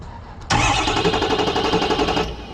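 An engine is cranked over without starting, turned over to check for oil pressure, giving a loud, close, rhythmic chugging that starts abruptly and runs steadily for almost two seconds before cutting off.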